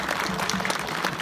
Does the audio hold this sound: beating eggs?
no